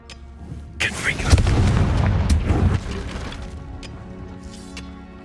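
A Confringo fire spell explodes in the Hogwarts Legacy video game, a loud booming blast that rumbles for about two seconds before fading into a lingering ringing tail.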